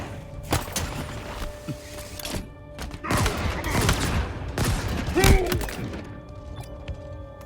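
Automatic turret gunfire in the video game Halo Infinite, heavy bursts and thuds recurring across the stretch with a loud cluster near the end, set among other battle noise.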